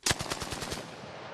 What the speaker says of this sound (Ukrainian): Ну ця зброя СХП вона холоста. Вона не може убити, але вона працює.